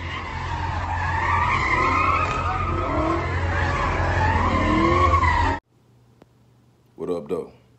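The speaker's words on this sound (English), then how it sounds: "So I know y'all seen the video of the burnouts on Lodge Freeway." Cars doing burnouts on the Lodge Freeway in Detroit, a loud continuous roar of squealing tires and revving engines lasting about five seconds, cutting off abruptly, followed by a short low hum and a brief burst of voice.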